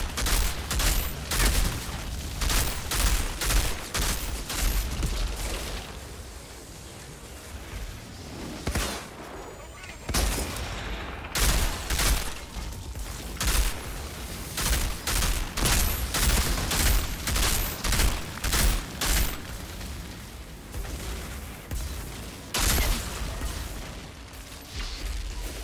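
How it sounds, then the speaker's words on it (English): Mortar shells exploding amid gunfire in the shooter game Outriders, loud repeated bursts and booms in uneven clusters across a long stretch, with a voice now and then. "Fucking mortar shells."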